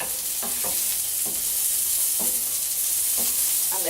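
Food fries and sizzles in a pan with a steady, loud hiss throughout, broken by a few soft scraping stirs at regular intervals.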